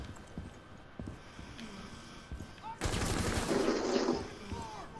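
Gunfire in the tactical shooter Rainbow Six Siege: quiet in-game ambience with scattered clicks, then a loud, sustained burst of rapid shots lasting over a second before tapering off.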